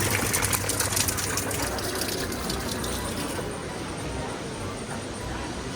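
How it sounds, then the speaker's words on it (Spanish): A public fountain in Florence dispenses sparkling water in a steady, close rushing gush that runs without a break, with no voices heard. "es una fuente en la que tienes agua natural y agua con gas."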